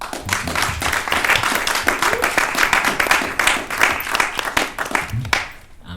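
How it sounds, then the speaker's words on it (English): Audience applause for a panel at an inclusive design event, dense rapid clapping from many hands sustained for several seconds before tapering off at the end. "another round of applause for the panel"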